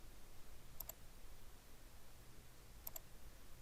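Two faint, sharp double clicks of a computer mouse right-click, spaced about two seconds apart, over quiet room hiss while working in jewelry CAD software.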